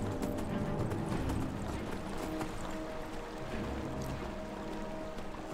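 Hoofbeats of a horse running in Skyrim, a steady clip-clop rhythm over a dense, continuous layer of game ambience and music at moderate volume, with no talking.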